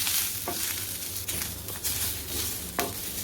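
Spices and onion roasting in a pan for a drumstick and potato curry, giving a steady close sizzle with a few scraping stirs, no talking.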